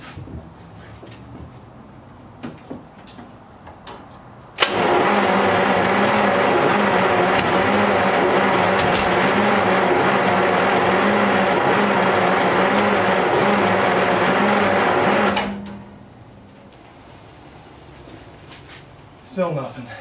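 A 1939 Buick engine cranks steadily for about ten seconds with a loud, even churning rhythm and does not catch, then falls quiet.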